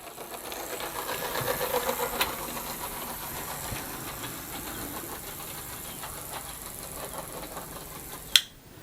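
OO gauge model railway BR blue diesel locomotives run on a layout, a faint steady whirring motor hum with light clicking of wheels over track, and a sharp click near the end.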